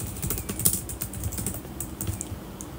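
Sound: typing a destination on a computer keyboard

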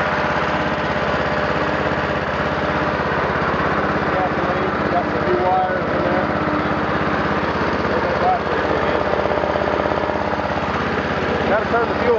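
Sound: Massey Ferguson 14 mower engine running

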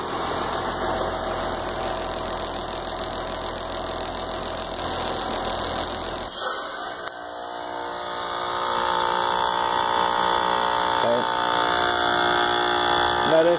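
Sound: heat pump reversing valve shifting into defrost mode

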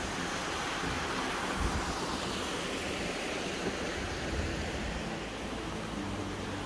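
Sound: small waterfall on a stream

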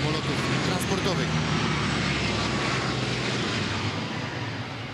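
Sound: Lockheed C-130E Hercules four-engine transport aircraft flying over

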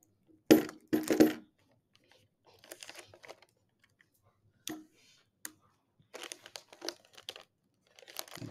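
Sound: taping wrapping paper on a present

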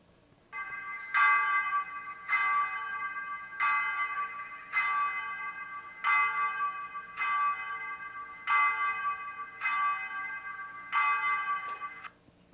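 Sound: church bells ringing the noon hour

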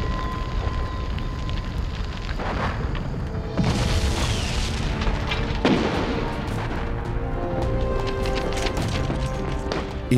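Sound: explosion of demolition charges, WWII Pacific documentary

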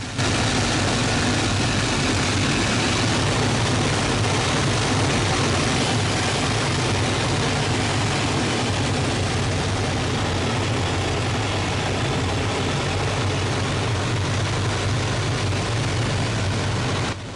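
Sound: WWII fighter plane piston engine

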